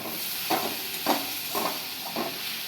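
Red amaranth greens and snake gourd with green chillies stirred in a pan, four soft scraping strokes at an even pace over a faint steady sizzle, close and quiet.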